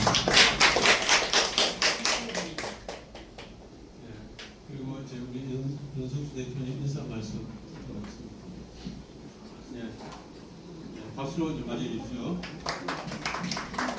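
Scattered clapping from an audience opens a 2025 general meeting of a direct democracy association, a burst at the start and another near the end, with talk in between.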